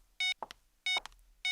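An unanswered phone call gives out repeating electronic beeps, three short bursts at regular intervals, each followed by brief clicks, loud and alone.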